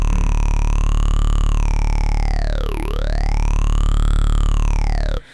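A sawtooth synth tone is held steady and loud while a phaser sweeps its resonance slowly down and back up, giving a smooth, hollow whooshing movement before the note cuts off abruptly.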